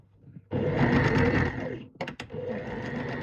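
A sewing machine runs steadily while sewing trousers, a loud close whirring hum that drops out briefly, gives a few quick stuttering bursts and then resumes its steady stitching.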